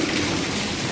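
Heavy rain pours steadily during a storm with lightning and thunder, a dense, loud, continuous hiss of water without clear thunder claps.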